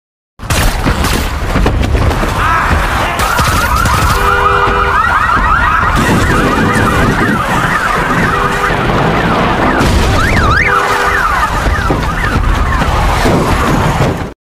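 A loud truck alarm blares with warbling, cycling tones over rumbling booms and chaotic noise, continuous and intense throughout.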